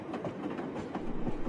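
A passenger train runs steadily, with a continuous low rumble and periodic rhythmic clacks of the wheels over rail joints, close and fairly loud, with no voices.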